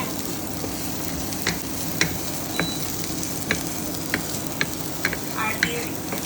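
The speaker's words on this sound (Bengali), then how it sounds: "পেঁয়াজ আর রসুনটাকে একটু কালার চেঞ্জ না হওয়া পর্যন্ত ভেজে নিয়েছি।" Onion and garlic fry in a pan with a constant bright sizzle while a utensil stirs them, giving sharp scraping ticks and clinks every second or so.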